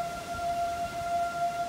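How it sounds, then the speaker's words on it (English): Sirens wail steadily in the distance during a tropical storm, a sustained pair of tones holding over low rumbling wind noise. "Sirens going off."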